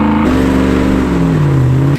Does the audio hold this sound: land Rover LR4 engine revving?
yes